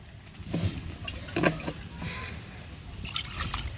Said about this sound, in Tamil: தேவையான அளவு தண்ணி சேர்த்துக்கிறோம்